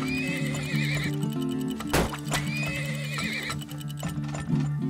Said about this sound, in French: Oh putain, les chevaux.